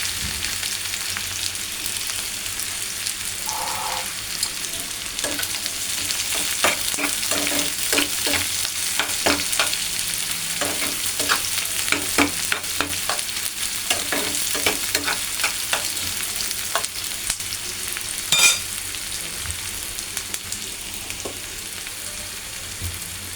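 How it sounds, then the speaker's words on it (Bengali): Onions fry together with katla fish in a pan, giving a constant close sizzle broken by frequent sharp stirring clicks and scrapes throughout. "মাছের সাথে পেঁয়াজ ভাজা হইলে পরে মজা লাগে।"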